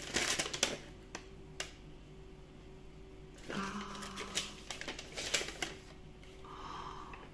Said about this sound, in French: Je vais ouvrir mon petit cadeau que j'ai juste commencé à déballer